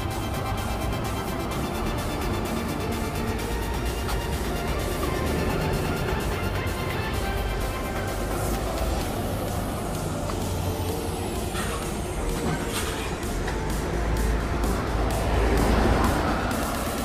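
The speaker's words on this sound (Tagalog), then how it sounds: "Ay, sinakyan natin bus." A bus in London on the way to work in early winter carries a passenger, with a continuous engine rumble and road roar, a rising whine and rattling toward the end, and no clear talk.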